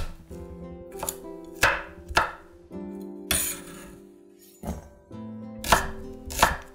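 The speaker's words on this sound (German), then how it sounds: "Knoblauchzehen grob schneiden" Garlic cloves roughly chopped with a knife on a board, about nine crisp, separate knocks at an uneven pace, close and clear with nothing else heard.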